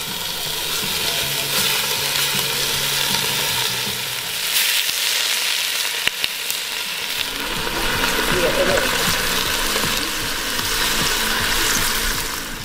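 Beef chunks brown in a camp pan for birria tacos, a loud, steady sizzle and crackle of frying meat with occasional stirring, heard close in an outdoor camp setting.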